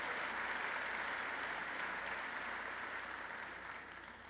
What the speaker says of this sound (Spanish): Un aplauso muy fuerte a todos.